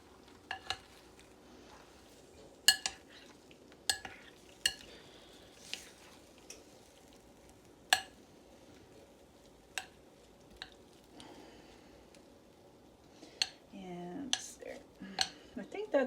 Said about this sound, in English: I'm going to give them a little stir.